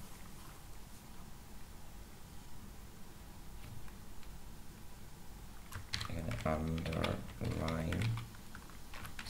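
HTML code is typed on a computer keyboard, quiet scattered clicks at first, then a denser burst of keystrokes while someone talks over them.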